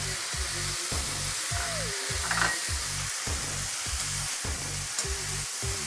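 Small cubes of raw paneer sizzle and fry in a pan at home, with a steady close crackle broken by regular scraping strokes as they are stirred.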